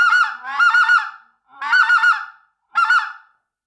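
A specklebelly goose call blown loudly for hunting gives four bursts of rapid, high yelping honks, each burst breaking into quick cackling notes with short pauses between, close and alone without talk.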